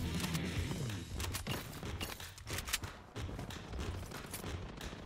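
Rapid automatic gunfire in the video game Bloodstrike, with dense bursts of shots and mechanical clatter filling the whole stretch at steady loudness and no talk over it.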